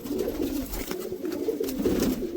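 Pigeons coo close by in a steady low throaty burble, several birds overlapping without pause.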